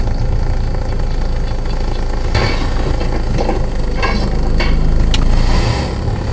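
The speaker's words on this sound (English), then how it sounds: "A bit of interference from the car there." Car engine idling and causing interference with the audio from a homemade FM transmitter, a steady low hum with a few brief crackles and bursts of static, and no speech.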